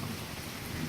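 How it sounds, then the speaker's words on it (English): Steady rain with rolling thunder during a winter thunderstorm on a Christmas morning in Nebraska, a continuous wash of falling rain over a low, sustained rumble, moderately loud and without voices. "Thunder, lightning, rain."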